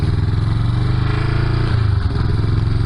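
A Honda CB350 motorcycle pulses loudly at close range, its throbbing engine beat steady with a brief dip in pitch as it rides along.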